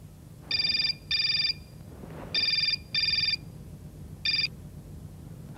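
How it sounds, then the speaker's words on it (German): A Motorola V3688 dual-band mobile phone rings with bright electronic beeps in a broken pattern of two bursts, a pause, two more, then one, loud against a quiet indoor background. "Das Motorola V.36 88, eins der kleinsten Dual-Band-Handys der Welt"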